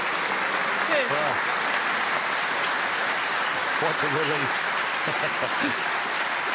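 A snooker crowd at the British Open applauds a pot in Judd Trump versus Mark Allen, with dense, steady clapping filling the hall while a commentator talks briefly over it.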